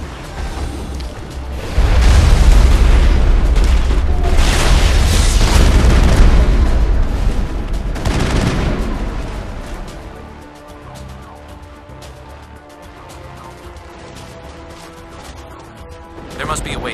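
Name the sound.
artillery fire explosions in video game Mass Effect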